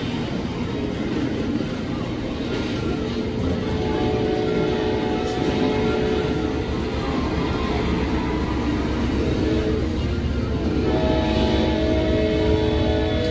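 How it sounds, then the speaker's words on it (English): The southbound Amtrak Crescent to New Orleans passes in Orange, Virginia, with a sustained loud rumble and rolling wheel noise, plus tonal hum and a horn-like tone appearing late. "And we got a southbound Amtrak train coming"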